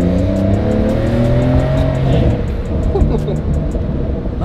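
Car accelerating in Sport Plus driving mode, a loud, close engine roar with rising revs and a steady rumble, heard from inside the cabin.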